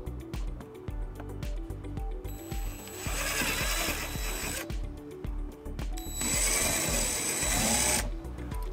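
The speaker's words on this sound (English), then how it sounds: "using the bracket as a template, we're gonna drill the holes for the screws" A power drill whirs and revs in bursts, drilling screw holes through a bracket on a 2019 Toyota C-HR, with brief pauses between runs and the motor rising in pitch as it bores into material.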